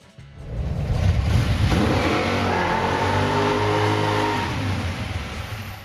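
A 1964 Ford Fairlane Thunderbolt muscle car engine revs up loud and close, climbing in pitch and holding a steady, throaty roar for several seconds with no talking.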